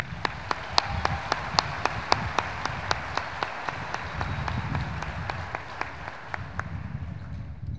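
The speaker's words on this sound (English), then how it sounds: "please give them a round of applause" Audience applause at a high school graduation ceremony, heard as a broad steady wash of clapping in a large space, with sharp individual claps standing out regularly, fairly faint and distant, with no talk.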